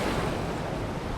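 Steady, loud wash of ocean waves and surf, a continuous broadband roar with no breaks, heard alone without voices.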